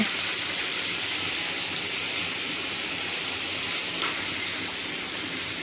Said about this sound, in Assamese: তাৰপিছত এতিয়া পিঁয়াজখিনি দিলে, পিঁয়াজ ভাজি আছে।